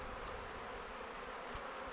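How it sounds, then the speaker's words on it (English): Honeybees in an opened hive frame of comb cells at an apiary buzz in a steady, continuous low drone, close and moderately quiet, with no talking. "Nice little honeybees are in there."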